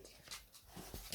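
A dog whines in short, soft whimpers, quiet and close, lasting only about a second.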